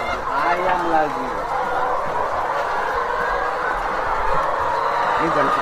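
A crowded flock of chickens at a poultry farm, steady and loud, with layered clucking and squawking filling the space from start to finish.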